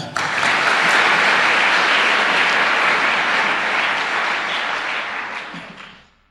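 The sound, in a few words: church congregation applauding and acclaiming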